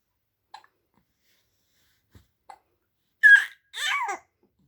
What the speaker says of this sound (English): Is that a struggle with hiccup?